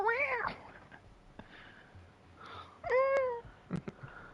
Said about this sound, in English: So you don't hear the meow